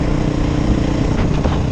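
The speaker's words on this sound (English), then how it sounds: "this motor does like to rev" A 2021 Beta 430 RR-S dirt bike engine running close and loud, a continuous throaty rumble with a slight rise in revs near the end, alone without talk.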